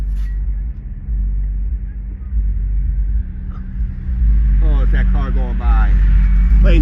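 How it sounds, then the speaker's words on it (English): A car passes close by along a riverside on an overcast day, its low rumble swelling and holding near the end, with a voice talking briefly over it. "it's that car going by."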